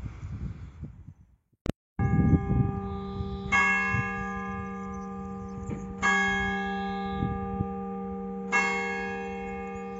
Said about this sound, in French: Oh, quelle aubaine, j'ai eu droit aux cloches.